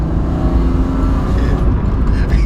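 An engine-swapped BMW E36 accelerates with a loud, steady engine roar and road noise heard from inside the car, rising gently over a couple of seconds.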